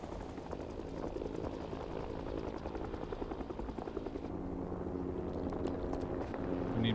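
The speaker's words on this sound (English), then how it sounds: "That was a helicopter." Helicopter in the Vietnam War shooter Rising Storm 2: Vietnam, a steady loud rotor drone with engine rumble running throughout, growing slightly louder toward the end, with no talk.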